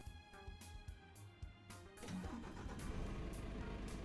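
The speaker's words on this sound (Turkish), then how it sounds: "şöyle marş marşımıza basalım" A Scania NG R450 truck engine in Euro Truck Simulator 2 cranks over and catches, settling into a steady low diesel rumble that holds through the end, faint and close with no voices.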